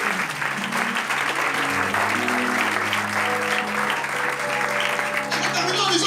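A church congregation claps steadily to acclaim the Lord during a Sunday morning service, continuous applause over background music with a lift toward the end.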